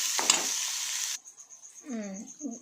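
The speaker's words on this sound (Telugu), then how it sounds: "మిరపకాయలు అనేవి ఇట్లా మంచిగా వేగిన తర్వాత ఇందులో కొంచెం పసుపు వేస్తున్నట్టు" Green chilies frying in a pan for egg curry give a bright, loud sizzle that cuts off abruptly, leaving a thin steady hiss under brief voice-like tones.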